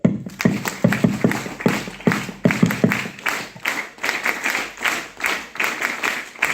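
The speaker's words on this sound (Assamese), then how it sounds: "শুনক তালি এটা মাৰি লওক" Audience clapping at a Mi Lifestyle network-marketing leaders' meeting: a steady, fairly even rhythm of close claps continuing throughout.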